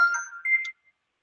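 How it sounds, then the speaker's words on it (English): A mobile phone alert sounds close and clear as a short electronic beep pattern in two quick parts lasting under a second, followed by silence. "My phone has decided that it's going to bother me."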